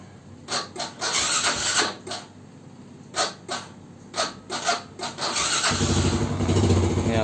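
Yamaha Vega R New motorcycle fitted with a full-wave rectifier conversion: repeated short cranking bursts as the starter turns over, then the engine catching and running with a steady idle rumble close by.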